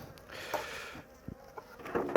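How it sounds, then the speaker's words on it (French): Honeybees buzz around a crowded hive, a faint steady hum with light knocks and rustles from handling the hive, and no one speaking. "Dieu, c'est blindé d'abeilles."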